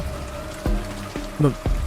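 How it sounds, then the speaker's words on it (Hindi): Steady, hissing rain pours down throughout, with a few low thuds breaking through the constant wash of drops. "अपने साथ इस बारिश को भी लाई हूँ"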